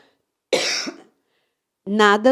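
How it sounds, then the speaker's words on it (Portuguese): A person coughs hard once, then again after a short pause, close and fairly loud in an otherwise quiet indoor room. "Eu vou pedir para eles continuarem falando enquanto minha tosse passa."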